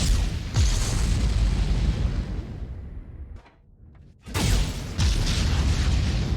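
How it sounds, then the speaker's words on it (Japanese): Chained explosions from large propellant tanks in the space game Starbase boom loudly in a deep rumbling roar, briefly dropping to near quiet before a second heavy blast erupts. "爆発範囲に一部が接触していれば連鎖的に爆発します"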